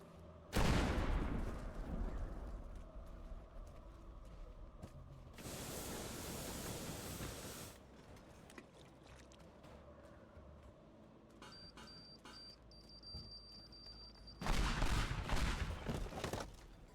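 Hunting rifle shots in the game Teardown: a few sharp, loud blasts, each followed by a rushing, noisy burst, separated by quieter mechanical ambience with a thin whine.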